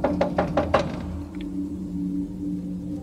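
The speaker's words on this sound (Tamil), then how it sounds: "அதுக்குள்ள இருந்து யாரோ தட்டுற மாதிரி அமானுஷ்யமான சவுண்ட்ஸ் கேக்குது" Five quick knocks rap out in an even, hollow rhythm near a grave, said to come from inside it, then give way to a low steady hum with a faint tap.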